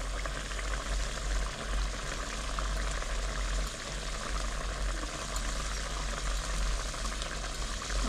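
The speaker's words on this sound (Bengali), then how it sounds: "দেখো আমার তরকারিটা কেমন ফুটছে দেখতে পাচ্ছ" Katla fish curry bubbling in a pot, a steady close, even simmering hiss with a low rumble underneath, continuous throughout with no talking.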